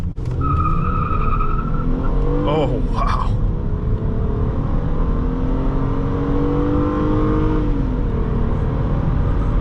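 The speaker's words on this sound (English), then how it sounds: "toasted the tires" Tires on a 2008 Hyundai Sonata GLS V6 squeal in rising, wavering shrieks over a loud revving engine and road roar heard from inside the car, with a voice speaking briefly near the start.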